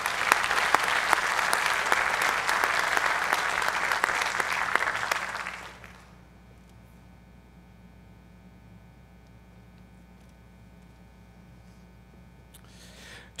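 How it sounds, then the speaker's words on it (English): Applause from the audience at a high school athletic hall of fame induction, steady full clapping for about six seconds that stops abruptly, leaving a quiet room with faint mains hum. "One more round of applause for Mr. Alex Ramsey."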